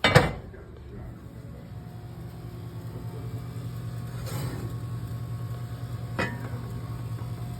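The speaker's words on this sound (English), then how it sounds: "So now we're gonna take the lids off." Metal lids come off pots of freshly baked sourdough bread with a sharp clank at the start, then a couple of lighter clinks later over a steady hum of room noise.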